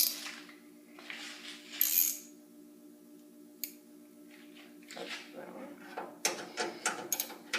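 A 3/8 ratchet tightens the grille bolts on a 1966 Mustang, with quiet metallic clicks and rattles, short bursts of ratcheting, and scattered clinks of tools and hardware close by, and no talk.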